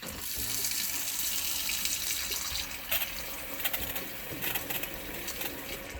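Water runs steadily from a tap into a pop-top caravan sink, a continuous loud splashing hiss that stays close and fairly even, with a few brief clicks and knocks toward the end.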